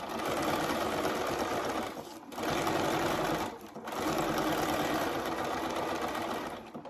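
A Baby Lock Solana sewing machine runs a very short stitch length in three bursts of steady, rapid whirring, with brief pauses between them, loud and close.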